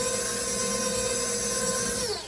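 A stand mixer with a paddle attachment churns thick butter pecan pound cake batter. It makes a steady, loud motor whine that holds constant and then begins to wind down at the end, with no talking.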